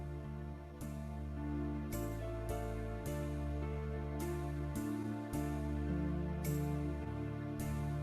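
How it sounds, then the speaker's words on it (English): An EY Series electronic organ plays a symphonic voice with a golden harp effect: soft, sustained chords change about once a second, with a gentle shimmer layered over the held notes. "With the golden harp,"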